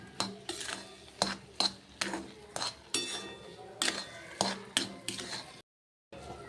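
A spoon stirring sugar into semolina sheera (rava shira) in a pan, giving repeated sharp metallic clinks and scrapes in a loose rhythm, close and clear, with a brief silent gap near the end.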